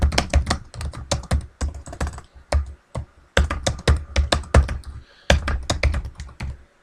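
Rapid clicking keystrokes on a computer keyboard, close and clear, coming in quick bursts with short pauses between.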